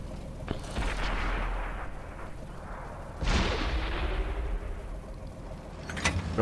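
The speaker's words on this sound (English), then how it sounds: "Oh, an artillery onto us." Artillery shells in World of Tanks land as a series of heavy booming blasts, with a sharp crack near the start, a bigger impact midway, and another at the end, each trailing into a rumbling decay.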